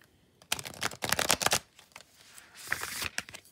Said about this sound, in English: I'm going to go ahead and give him a good heart shuffle here.